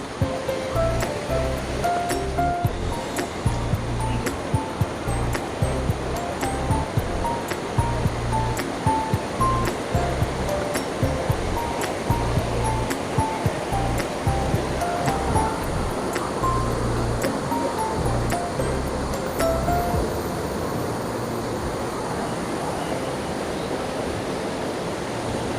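Rushing water at Poler waterfall, a loud continuous roar of falling and churning water heard close by, with faint rhythmic music underneath throughout.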